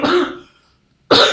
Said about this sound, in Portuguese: essa tosse aí